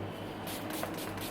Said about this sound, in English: And now just throw on any setting spray.